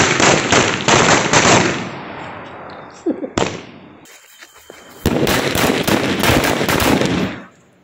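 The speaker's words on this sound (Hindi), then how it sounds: "ये अब गाइस बारी है फटाका की" Loud rapid volleys of firecracker bangs during fireworks testing, crackling bursts for about three seconds, a short lull with scattered pops, then another dense crackling barrage that fades out.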